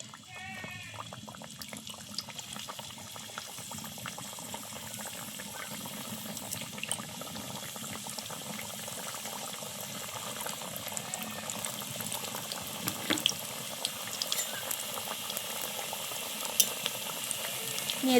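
Battered pieces fry in hot oil in a kadai, giving a steady, close bubbling sizzle that holds throughout.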